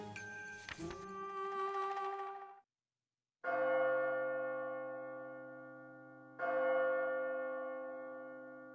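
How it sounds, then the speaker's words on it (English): Church bells ring in the video game Labyrinth of Refrain: Coven of Dusk. A loud, sustained peal fades after a short pause, then returns as two separate resonant tolls that decay slowly, with no one talking over them. "Oh yes, we've got to wait for the bells, haven't we?"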